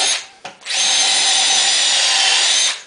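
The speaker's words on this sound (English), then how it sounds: "I'm going to drill a series of countersunk holes" A Festool cordless drill with a countersink bit runs at steady high speed, cutting countersunk holes in wood; a brief start and stop, then one loud continuous whirring run that ends abruptly.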